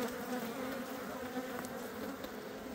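Honeybees swarming over wax-filled hive frames, a dense continuous buzzing hum held steady throughout, close and moderately loud, no talking.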